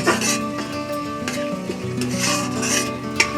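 A taro leaf dish stirred slowly in a pan, with steady scraping and rubbing strokes over a low sizzle, plus a faint tonal hum in the background and a small clink near the end.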